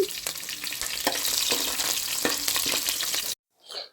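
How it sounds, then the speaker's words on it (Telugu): Slit green chillies fry in hot oil in a pan for a mango fish curry, giving a steady close sizzle with crackles and utensil scrapes, then cutting off into near silence with a brief faint hiss at the end. "ఇందులోనే మనం సన్నగా చీల్చి పెట్టుకున్న పచ్చిమిర్చి వేసుకొని ఇవి ఫ్రై చేసుకోవాలండి"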